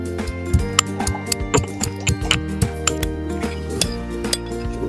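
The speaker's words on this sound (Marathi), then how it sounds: "मी आता याचा ठेचा बनवून घेतो आणि आपण तो तेलात परतून घेऊया" Cumin, garlic and green chilli pounded into a coarse Khandeshi thecha for patodi rassa, a steady run of sharp clinking knocks about every half second, close and fairly loud, over a low background hum.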